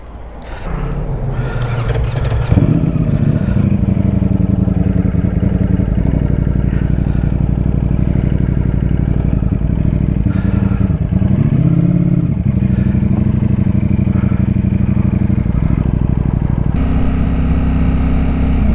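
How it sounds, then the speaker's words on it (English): Ducati Streetfighter V4S motorcycle on a test ride, its engine a loud, continuous close-up roar that rises and falls as the throttle changes, with a brief dip and swell in pitch midway. "Well, oh, a little backfire."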